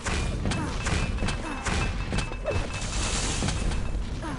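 Rocket blasts and hits thump through a frantic Quake Live team deathmatch, dense, loud game sound with repeated booming impacts and mechanical clatter layered throughout.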